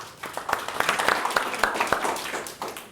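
An audience at a talk for real estate agents applauds a speaker taking the stage, with distinct scattered claps forming a fairly close, lively patter of moderate loudness.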